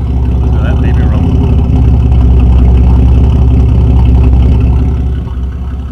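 A Buick Century Turbo Coupe 3.8 turbo with chambered exhaust idling, a loud steady low rumble that holds throughout and eases slightly near the end.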